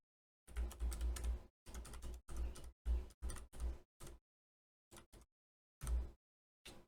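Bursts of keystrokes on a computer keyboard while entering text in Vectric Aspire design software, clattering in quick clusters separated by short pauses, close and clear with no voices.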